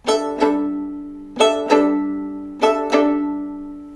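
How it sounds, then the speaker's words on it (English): Plucked violin open strings played guitar-style in three pairs of quick plucks, each note ringing and fading before the next pair. "So it sounds like this on the open strings."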